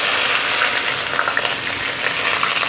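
Chopped onions frying in three to four spoons of oil in a pan, a loud continuous sizzle with crackling pops and occasional stirring, close up with no talk.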